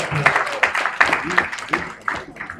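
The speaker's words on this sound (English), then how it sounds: "Deserves another round of applause." A hall audience at an annual newspaper lecture gives the chairman a round of applause, with scattered, uneven claps mixed with murmuring voices.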